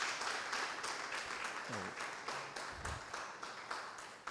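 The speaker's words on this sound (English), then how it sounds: "Round of applause, please" Audience applause in a church or foundation gathering, a steady spread of many hands clapping at moderate distance, with a few brief voices over it.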